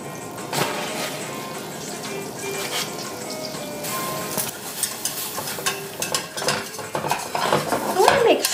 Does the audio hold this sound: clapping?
no